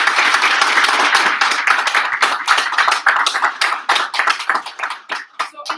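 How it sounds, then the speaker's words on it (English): An audience at a college business analytics capstone presentation gives a round of applause: a dense wash of clapping that thins into scattered, individual claps toward the end. "And so let's give them a round of applause."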